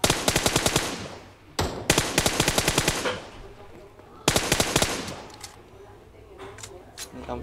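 M4 rifle firing fully automatic bursts at a firing range, loud and close, in three long rapid strings of shots separated by short pauses, with faint talk in the gaps.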